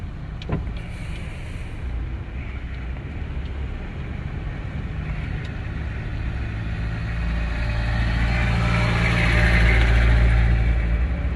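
A car engine idles, then revs up and holds a louder, rising roar toward the end, close and steady.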